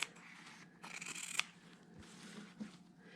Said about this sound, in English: we're just trimming off this extra bulk that we don't need